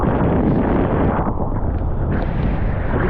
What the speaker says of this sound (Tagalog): biglang nagbago ang ihip ng hangin umiba yung habagat